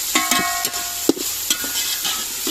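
Chicken frying in a pan with tomatoes, green chillies and ginger garlic paste, stirred with a few sharp scraping clicks over a steady soft sizzle.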